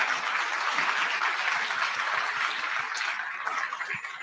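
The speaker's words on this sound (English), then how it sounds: "All of you are clapping for us because we are on the stage." A large audience applauds at a Toastmasters conference, a dense, continuous wash of clapping that holds steady and eases slightly toward the end.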